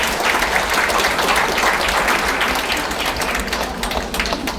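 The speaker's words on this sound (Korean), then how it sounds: "역시나 박수로 축하해 주십시오." A large audience applauds steadily at a book launch for Kim Deok-ryong's memoir at the National Assembly Museum as a bouquet is presented on stage. The clapping is dense, loud and continuous, a full crowd roar held for several seconds.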